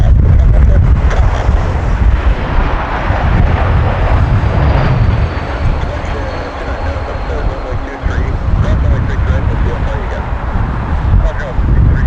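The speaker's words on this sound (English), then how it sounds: "It's an airport takeoff" A jet airliner takes off on a balmy early June evening at Toronto Pearson airport, its broad low roar steady and loud for the whole stretch, with wind buffeting the microphone and faint voices beneath.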